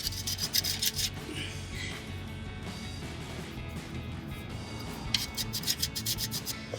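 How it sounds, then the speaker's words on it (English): A rag rubs along a brake line on a Jeep Wrangler during a brake rotor install, a soft scuffing and rasping that comes in short bursts at the start and end with quieter rubbing between. "Now we'll clean off our brake line."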